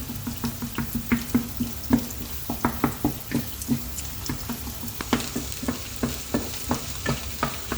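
A spoon scrapes and stirs crumbly puttu frying in a pan, giving repeated short scraping strokes in a steady rhythm over a soft sizzle, close and moderately quiet.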